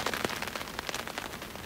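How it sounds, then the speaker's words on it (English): Steady rain falls at a wet campsite, a dense, even patter of drops with scattered sharper splashes across the short stretch, no voices over it. "See, it's still raining."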